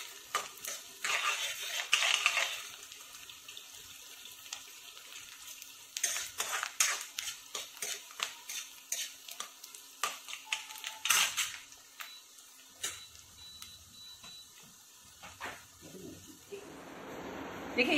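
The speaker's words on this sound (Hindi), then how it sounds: "प्याज को हमेशा तेज आंच पर ही भुनना चाहिए, उससे क्या होगा आपका प्याज ब्राउन भी होगा और जूसी भी रहेगा" Onions are stirred in a pan over high heat, mostly heard as repeated metallic scrapes and clinks of a spoon against the pan over a faint, quiet sizzle, with gaps between bursts.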